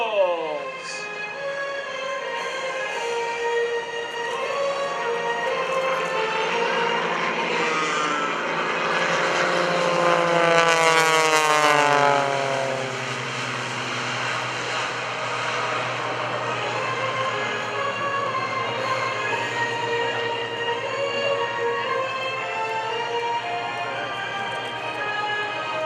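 Propeller airplanes of the Iron Eagle aerobatic team make a banana pass at a Greenwood Lake airshow, a steady engine drone that swells as they approach, peaks with a falling whine as they pass, then eases off into a lingering hum.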